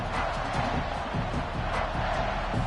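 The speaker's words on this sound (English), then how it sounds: "Arizona Stadium with this red and blue crowd ready to bear down with their Wildcats" A red-and-blue home crowd roars in Arizona Stadium, Tucson, before a Wildcats football kickoff, a dense continuous wash of distant cheering and shouting, steady throughout.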